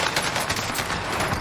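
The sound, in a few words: gunfire in a gunfight, from the video game Warzone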